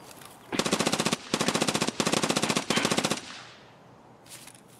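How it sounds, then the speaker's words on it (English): Automatic gunfire in the shooter game Escape from Tarkov: four loud, rapid bursts fired back to back, each a tight rattling string of shots, followed by a brief fading tail and one short final burst. "Alright, he's trying to shoot."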